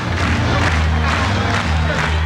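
A packed gym of 1,500 students stands clapping and cheering, a loud, dense roar of applause and shouts rising in waves, close and continuous.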